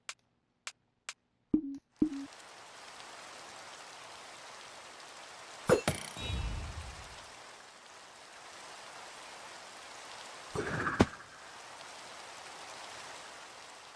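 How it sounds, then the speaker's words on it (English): Minecraft rain hiss fills the background after a few sharp clicks, with occasional louder thuds and a brief whoosh breaking through. "Now it needs to be raining."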